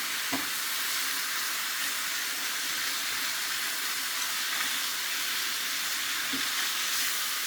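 Mushrooms and garlic frying in a pan give a steady sizzle while being stirred, with a few soft scrapes of the utensil against the pan.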